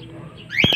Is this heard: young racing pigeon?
yes